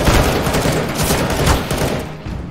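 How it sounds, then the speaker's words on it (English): Rapid pistol gunfire crackles through a Counter-Strike: Global Offensive match, loud and dense with overlapping shots for a couple of seconds. "Time to get my pistol shots"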